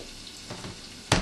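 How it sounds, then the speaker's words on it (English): Duck sizzles steadily in a hot pan, a soft crackling hiss that swells into a brief louder sputter at the end. "That's the sound you want to hear. Nice and sizzling."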